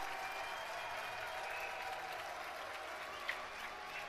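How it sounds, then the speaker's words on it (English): Crowd cheering and applause fill a college men's ice hockey rink during a 2019 NESCAC game between Hamilton and Trinity, a dense, steady roar that holds for the full four seconds with one brief sharp accent near the end. "The loudest cheer of the game for Charlie Zuccherini"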